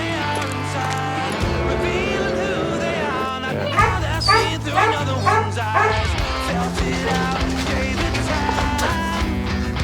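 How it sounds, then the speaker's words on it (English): A dog gives a few yips and whimpering barks over steady background music, the sounds bunched in the middle and fairly close. "He's cool. He's a cool dog."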